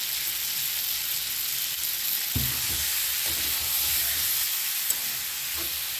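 Spices, eggplant and potato sizzle in hot oil in a pan for a Bengali rupchanda fish curry, a steady bright frying hiss with a few soft stirring knocks, close and without talk.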